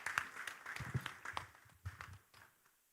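An audience at an African emerging markets forum claps to welcome a moderator on stage, scattered, fairly faint applause that thins out toward the end.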